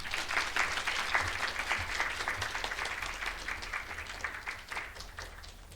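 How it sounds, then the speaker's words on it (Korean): A seated audience at a Korea University business school admission event claps to welcome the dean, a moderate, fairly even patter of many hands heard from some distance that gradually eases off. "큰 박수 부탁드립니다"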